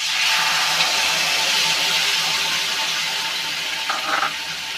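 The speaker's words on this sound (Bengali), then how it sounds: "আর এই যে মশলাটা করে রাখা, ভেজে রাখা মশলা দিয়ে দিচ্ছি এখন।" Spices frying in a pan with a loud, steady, close sizzle that holds throughout, plus a brief stirring scrape near the end, no talking.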